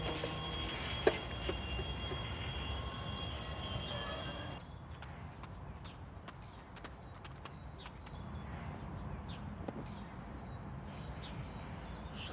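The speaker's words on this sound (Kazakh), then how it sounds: "Пойыз келе жатыр." A train rolls past with a rhythmic clatter of wheels on rails and scattered sharp clicks; the sound is loud at first, then drops abruptly to a quieter, more distant rumble.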